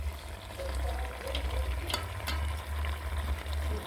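A chicken stew of kienyeji chicken with Irish potatoes is stirred in a pot over an outdoor fire, giving a steady close bubbling sizzle with soft scraping and a couple of brief knocks of the utensil.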